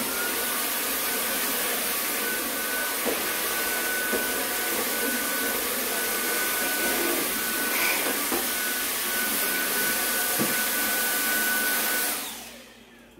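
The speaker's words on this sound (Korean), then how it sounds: "벽난로는 문을 한번 열면 이렇게 진공청소기로 한번 빨아들여야 됩니다." A vacuum cleaner sucks up ash from a fireplace, a loud steady whine and roar running unbroken for several seconds with faint knocks of debris, then winding down and cutting off at the end.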